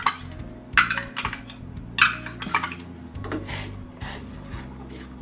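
A spoon stirring milk and sambhar rice for kheer in a metal pot, with scraping and clinking knocks in uneven rhythm, close and moderately quiet.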